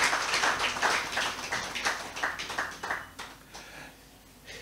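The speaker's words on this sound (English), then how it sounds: "Give me a round of applause." Scattered applause from a ceremony audience at a swearing-in in St. Lucia, a run of claps that thins out and fades toward the end.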